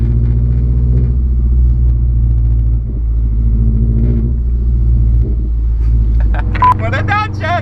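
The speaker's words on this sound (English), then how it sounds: "That was a journey of a straight pipe Subaru from my work to the post office to home." A Subaru with a straight-piped exhaust and deleted muffler rumbles with a deep, steady low drone from inside the car while it drives, and a voice speaks over it.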